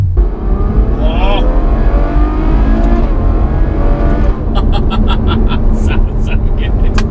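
A Ferrari GTC4 Lusso engine revs loud and close from inside the car, a deep roar climbing in pitch, followed by crisp crackling pops on the overrun.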